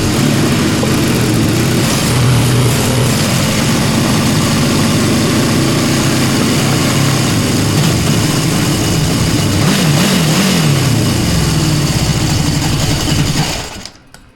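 A 1977 Honda CB750K motorcycle engine runs steadily at idle, loud and continuous for about fourteen seconds with a brief wavering in pitch near the end before cutting off abruptly.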